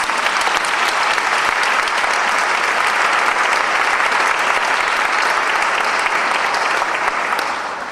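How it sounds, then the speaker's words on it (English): Steady, dense applause from an audience at a 15th anniversary celebration of Travis Academy, loud and sustained for about eight seconds before tapering slightly at the end. "Can I give you and you give yourselves a round of applause?"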